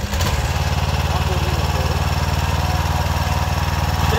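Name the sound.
mini tractor engine starting and running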